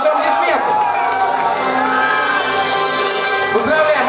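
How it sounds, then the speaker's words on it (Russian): A hall audience cheers and shouts for a nominee at a student pageant, dense loud crowd noise with whoops and voices throughout. "Максим Гребенник, ваши аплодисменты"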